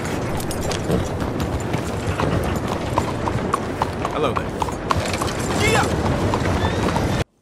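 A horse in Red Dead Redemption being led outdoors, its hooves clip-clopping in a steady close rhythm, with occasional snorts, under continuous spoken narration.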